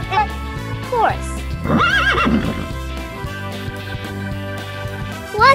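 A horse whinnies loudly in a rising-and-falling neigh in the middle, with a shorter neigh near the start, over background music in a children's animal-naming sequence.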